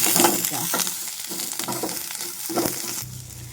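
A spoon stirs a pinch of asafoetida and some turmeric in hot oil in a pan for tomato chaaru. Close, repeated scraping strokes sound over a steady sizzle, with no talking.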